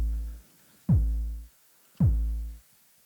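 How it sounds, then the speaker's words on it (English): Synthesized drum beat built in the browser with the Web Audio API: two booming kick-like hits with a falling pitch sweep, spaced about a second apart, clean and close with no talk. "create those sounds like a kick or a snare with the Web Audio API"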